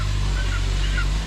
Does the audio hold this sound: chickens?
yes